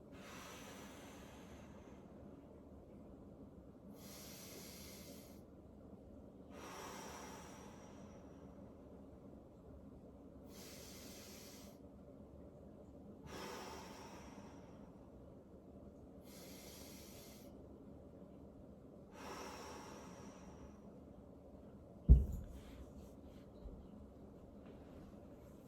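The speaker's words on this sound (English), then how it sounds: "I'm going to breathe in through my nose, and as I exhale" Slow, steady breathing during a gentle back exercise on the floor: about seven soft airy breaths at regular intervals, quiet and close, followed by a single brief thud near the end.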